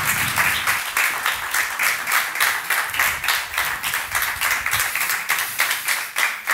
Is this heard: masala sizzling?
no